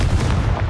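Confringo fire-blast spell in Hogwarts Legacy erupts as a short, loud, dense rumbling explosion filling the whole moment with no voices.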